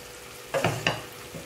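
Halved mushrooms tipped into a hot pan for mushroom masala, giving two or three quick, close sizzling bursts that fade back into a quiet background hiss.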